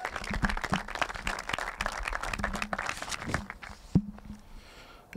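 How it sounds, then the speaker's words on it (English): Applause from a small audience for student athletes at a university golf performance center groundbreaking, moderate and scattered with footstep-like thumps, tapering off toward the end. "So let's give a round of applause for our student athletes here."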